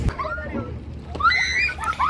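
Water splashes and sloshes as people wash their faces, legs and hands before darshan at the Medaram Sammakka Sarakka temple fair, with voices talking nearby.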